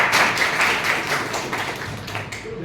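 An audience at a JCI Nagpur innovation training session bursts into steady applause, dense and loud, with many hands clapping together for a few seconds before it starts to thin out.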